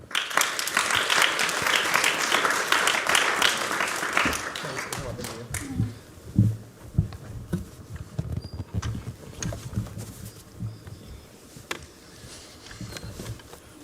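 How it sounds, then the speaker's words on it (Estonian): At a national music competition, the audience gives loud, dense applause that gradually thins out into scattered claps, with faint murmuring and stage noise as it dies down. "Aplaus!"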